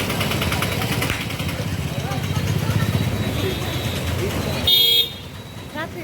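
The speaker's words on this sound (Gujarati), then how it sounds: "ટ્રાફિક બહુ" Heavy street traffic in Porbandar, a steady rumble of cars and motorcycles with a loud horn honk near the end and another short toot after it, while people talk throughout.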